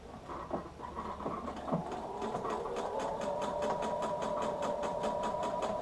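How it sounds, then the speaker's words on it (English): Sewing machine stitching fabric, starting with a few hesitant stitches and then settling into a fast, steady mechanical whir and rhythmic clatter, close and alone. "I take that to the sewing machine."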